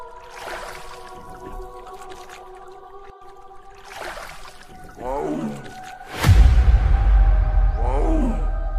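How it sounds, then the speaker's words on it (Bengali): A cartoon tiger arriving by boat lets out a loud roar that swells and trails off, over a musical score with other cartoon sound effects, with no talking. "আরে এটা তো বাঘ, কিন্তু নৌকায় করে আসছে কি কি জন্যে?"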